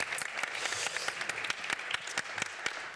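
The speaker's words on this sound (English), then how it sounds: "We can start by a round of applause to start with this." A room of attendees at a transport innovation talk applauds award-winning presenters, modest scattered clapping with distinct individual claps standing out, moderately close.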